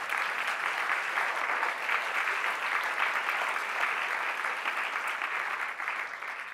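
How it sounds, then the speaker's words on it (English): Sustained applause from a crowd, steady and fairly loud throughout with no voices. "how about a round of applause for the Tucker team?"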